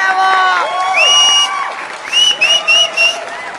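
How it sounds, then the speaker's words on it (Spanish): A studio audience on a talk show cheers for actress Bárbara Torres, with sharp rising whoops and shouted calls coming close in short repeated bursts. "aplauso"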